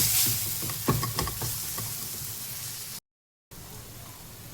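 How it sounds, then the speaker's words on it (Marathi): Ground spice masala frying in oil, a loud close sizzle with bright crackling pops that settles into a steadier hiss, briefly cutting out near the end, no speech. "मसाला मस्त तेलामध्ये भाजायचा आहे आपल्याला"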